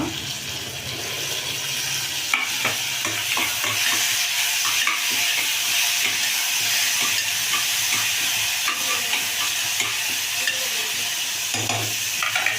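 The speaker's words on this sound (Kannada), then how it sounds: "ಈರುಳ್ಳಿ ಚೆಂದ ಫ್ರೈ ಆಗಲಿ ಈರುಳ್ಳಿ ಫ್ರೈ ಆದಮೇಲೆ ಟೊಮೆಟೊ" Onions frying in a pan for a bitter gourd gojju, a steady sizzle with frequent stirring scrapes and some watery clatter throughout, fairly close and even, with no talk.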